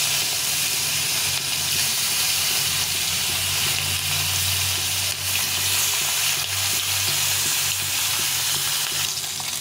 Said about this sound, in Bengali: এই সাদা তেল দিয়ে মাছটা ভেজে নেব।